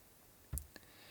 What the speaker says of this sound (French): Je clique d'abord sur le bouton d'enregistrement.